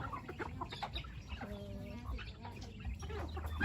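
Many chickens cluck nearby in a rural yard, with a busy overlapping chorus of short clucks and calls over soft outdoor background noise.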